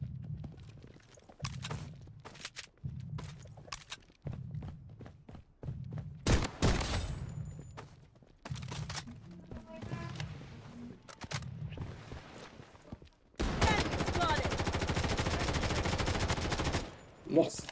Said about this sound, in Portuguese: Nossa senhora, errei todos os tiros.